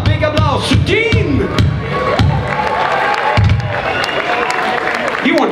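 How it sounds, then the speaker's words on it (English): An audience on a cruise ship pool deck at a heavy metal festival claps, cheers and whoops, a loud crowd roar with shouts rising above it and a voice speaking briefly. "Give him a big applause to Dean!"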